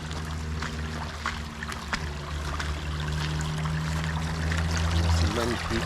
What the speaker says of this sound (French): Sur votre droite en montant, un petit ruisseau coulera.